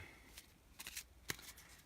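Playing cards for the Beasts card game are riffle-shuffled by hand, short bursts of crisp fluttering riffles with one sharp snap near the end, close and fairly quiet, no talking.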